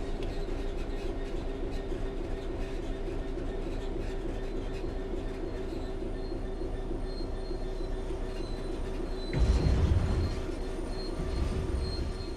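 Train in Train Sim World 3 coasting on level track with throttle off: a steady rolling rumble of wheels on rails with faint clicking, a brief louder burst of wheel noise near the end, no talk.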